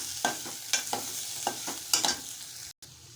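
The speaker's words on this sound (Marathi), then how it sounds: "मिश्रण छान एकजीव करून घेत आहे" A spoon stirs a potato patty filling mixture in a pan with a faint sizzle, giving a series of irregular scraping strokes, close and moderately loud.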